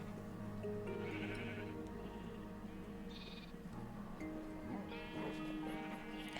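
Sheep bleating in the Minecraft video game: several wavering bleats come one after another over a constant low hum, some overlapping, fairly quiet overall.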